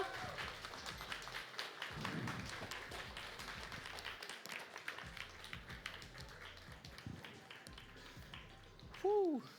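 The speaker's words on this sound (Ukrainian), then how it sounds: "Оплески нашому учаснику." Audience applause for a contestant at the CIGS 2026 final, soft and distant under a murmur of voices, with a brief louder sound near the end.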